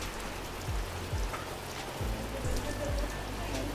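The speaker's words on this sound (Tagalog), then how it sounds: "Lakas po ng ulan" Heavy rain pours down in a steady, dense hiss, loud and close, with a few low thumps underneath and no voices.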